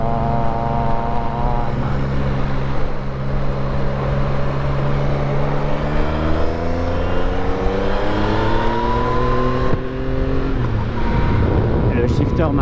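A Yamaha XSR900 GP motorcycle engine drones loudly and continuously at close range, its pitch sweeping up as the rider shifts gears through a quickshifter, with wind noise over the steady roar.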